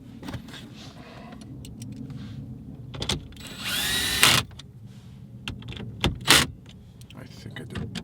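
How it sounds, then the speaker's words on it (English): Power drill tightening screws into plastic trim during a 2010-2014 Golf GTI radio installation, its clutch slipping in two short, loud ratcheting bursts over steady background noise. "What you're hearing is the clutch, so what happens is when it feels resistance, it lets go."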